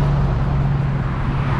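Steady road traffic rumbles past a cyclist on a sidewalk in Mount Vernon, Ohio, a continuous drone of nearby cars with a low engine hum, no voices.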